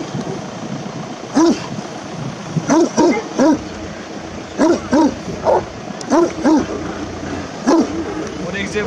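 A Bucovina shepherd dog barking, deep single woofs and short bursts of several barks spaced irregularly, fairly close, over a low background murmur.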